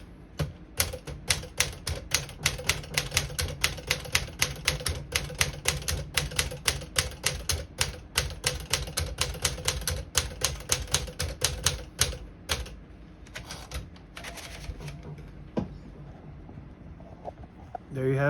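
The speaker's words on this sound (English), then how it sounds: "Let's type a sentence with red." A 1958 Smith-Corona Clipper portable typewriter clatters through a sentence, rapid close keystrokes in an uneven rhythm for about twelve seconds, then a few scattered strikes and a carriage sound, with faint talk in the background.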